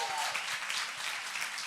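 An audience in a church gathering gives a brief round of applause, a steady patter of many hands clapping at moderate distance.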